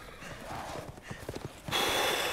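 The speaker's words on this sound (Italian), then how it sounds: "arrivano a cavallo portando uomini morti su delle lance" Horses galloping into a scene in the video game Resident Evil Village, carrying riders; rapid, close clip-clop hoofbeats in an uneven rhythm, with a louder noisy burst near the end.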